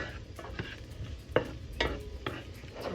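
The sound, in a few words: stirring sautéing onions in a pan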